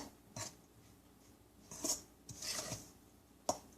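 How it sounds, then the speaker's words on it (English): Dry chickpea flour ingredients stirred in a bowl make a few brief, faint scrapes and light clinks, spaced irregularly in a quiet room. "I'm going to just give this a little mix. I'm going to mix them up so they're not all clumped together."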